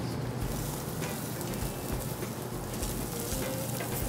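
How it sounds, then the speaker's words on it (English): Lamb being stirred in a hot restaurant pan sizzles steadily and loudly, with a dense continuous crackle and faint scraping throughout and no talking. "Start stirring away."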